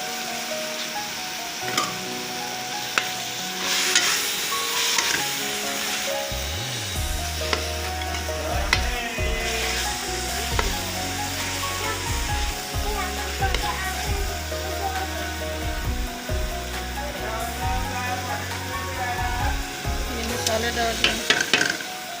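Green chillies sizzle and fry steadily in a pan for potato and radish pod curry, with a utensil stirring and scraping throughout, close and continuous.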